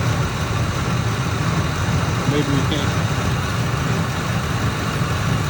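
A 2003 Ford Expedition engine idles with a steady, close low rumble and shaking vibration, with a person talking over it throughout.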